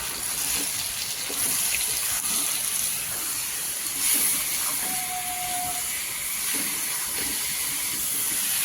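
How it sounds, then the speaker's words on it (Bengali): Ginger, garlic and green chili paste stir-fried in a pan for a rohu fish curry with taro, giving a steady broad hiss and sizzle with faint scraping, close and continuous. "দিয়ে দেবো বাটা মশলা এর মধ্যে আছে আদা রসুন আর কাঁচা লঙ্কা ঝালের জন্য এটাকেও দিয়ে দিচ্ছি দিয়ে একটু ভালো করে কষে নিই"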